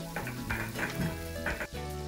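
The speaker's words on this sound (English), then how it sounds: "Add a little bit of sesame oil to this. Got some onion, some garlic. Get it in our frying pan." Onion and garlic fry in sesame oil in a pan, sizzling close and steadily with brief stirring scrapes breaking through, no voices.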